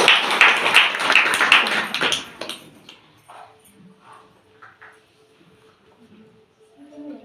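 Clapping from girls at a kishori mela held at an anganwadi centre, a burst of rapid hand claps in the first two and a half seconds, then fading to quiet room noise with faint voices.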